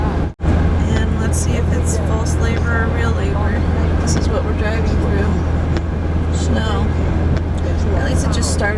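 A car drives along a road with a steady low engine and road rumble from inside the vehicle, while a person talks throughout.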